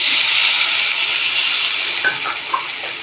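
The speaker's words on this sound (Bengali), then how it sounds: "কষানো হয়ে গেছে, এবার জল দিয়ে দেব।" Water poured into a curry sizzling in a pan, a steady loud hiss and sizzle throughout with a few brief bubbling pops toward the end, no voices.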